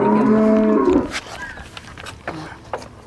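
A Jersey cow at a dairy cattle market in the Baghabari Bathan area gives one loud, drawn-out moo lasting about a second, followed by quieter scattered market noises.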